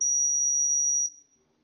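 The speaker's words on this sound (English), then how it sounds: "So first we'll try to enter the wrong password and see the buzzer will beep." A single steady high-pitched buzzer tone sounds for about one second from an Arduino RFID attendance system after a wrong password is entered, then cuts off into near silence.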